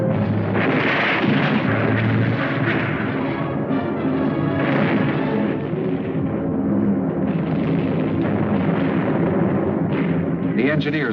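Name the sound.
gunfire during glider landings in a vintage war film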